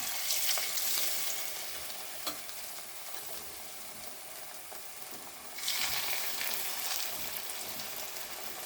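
Food frying in oil, a soft steady crackle and sizzle, fairly quiet, swelling louder for the last few seconds.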